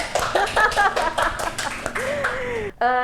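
During a talk show, a small audience gives a few sparse, uneven claps that mix with voices. A short tonal sound cuts in at the very end.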